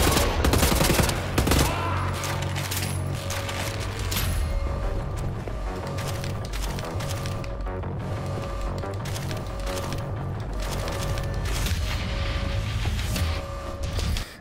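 Heavy, sustained gunfire rattles in bursts through the game Wolfenstein: The New Order, loud and close, with rapid automatic shots layered over a low droning background for the whole stretch.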